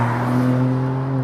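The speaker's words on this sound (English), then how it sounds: "you can enjoy revving it out" Ford Puma ST's 200-horsepower small engine holds a steady, loud revving drone with strong harmonics, close up and alone with no talk.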